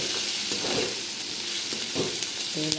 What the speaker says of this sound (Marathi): तेलात टाकल्या लसूण, कांदा, मिरची, त्याला लाल करते